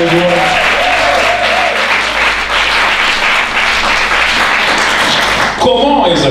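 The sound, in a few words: congregation applauding loudly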